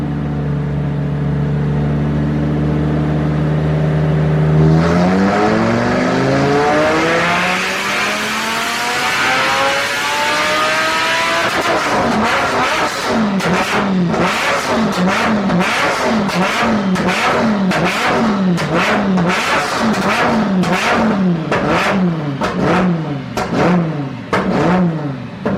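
Ethanol-fuelled Lamborghini engine revving hard and loud from nearby: a long climbing rev that settles into repeated sharp throttle blips with crackling pops on the overrun, with no talk over it.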